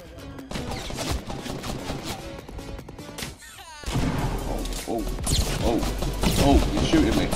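Gunshots and impacts in Fortnite Battle Royale come in scattered bursts and cracks, growing denser and louder near the end, while a player talks throughout.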